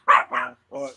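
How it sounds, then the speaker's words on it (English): A small Chihuahua-Yorkie mix dog barks three times in quick, sharp yaps, close by and fairly loud, with a short pause before the last one. "gotta excuse my dog. She's barking at my wife"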